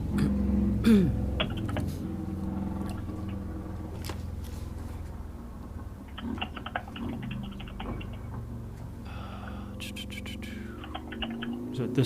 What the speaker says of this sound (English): Someone's loud typing.